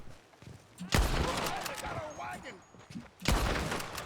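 Gunfire in Red Dead Redemption 2 erupts in two loud rapid volleys, with game sounds and voices in between.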